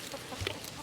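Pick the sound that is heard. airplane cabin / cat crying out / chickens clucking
chickens clucking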